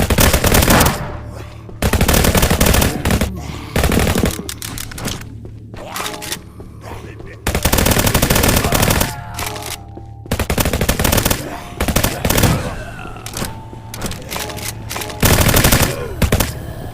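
Loud, rapid automatic gunfire from weapons in a VR zombies shooter game, in long sustained bursts with brief gaps, with a voice speaking between the bursts.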